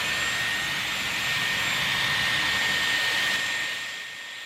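Dyson Airwrap hair styler running on high heat and high speed, a steady airy whoosh with a thin high whine, ending in a slight drop in loudness, with no talk.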